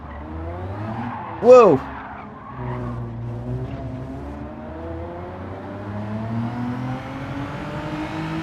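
Race car in Gran Turismo 7 braking hard with a short, sharp tire squeal near the start, then steady engine drone continuing underneath; a voice exclaims briefly.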